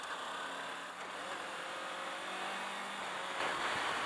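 A 2018 Kawasaki Versys X 300 motorcycle under way, its engine a steady mid-pitched drone mixed with rushing wind noise, swelling slightly near the end.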